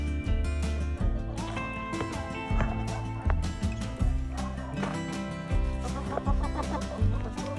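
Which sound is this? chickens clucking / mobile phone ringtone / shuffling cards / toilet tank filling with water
chickens clucking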